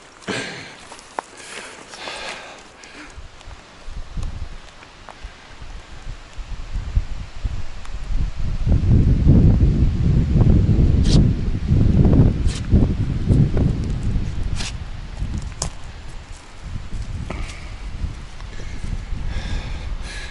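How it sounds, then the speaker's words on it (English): Gusty wind buffets the microphone on a mountain trail to Goat Lake, building into a strong, sustained roar in the middle and easing off, mixed with scattered footsteps and rustling. "Getting pretty windy now though."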